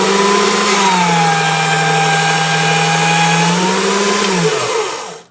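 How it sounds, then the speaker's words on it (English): A motorized pasta machine runs while rolling polymer clay, giving a loud, close, steady motor whine that holds for several seconds, dips slightly, then winds down and stops. "So I'm going to turn the motor on."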